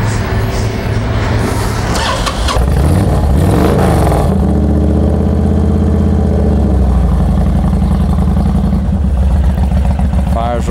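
Honda VTX1300R motorcycle with a header exhaust firing up and revving, a loud steady rumbling engine that settles into an even idle, close and continuous throughout.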